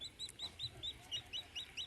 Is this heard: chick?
yes